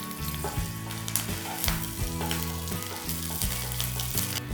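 Green chillies and curry leaves sizzle steadily in hot frying oil, a continuous crackling hiss with a soft stirring rhythm underneath, close and moderately loud throughout.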